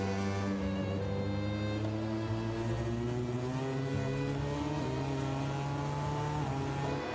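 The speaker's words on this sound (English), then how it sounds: "On board with Pedro. Race, but it sounds like it's running sweetly now" On-board sound of a Honda MotoGP racing motorcycle at speed in a race, its high-revving engine wailing continuously with shifting pitch as it accelerates, loud and steady throughout without any voices.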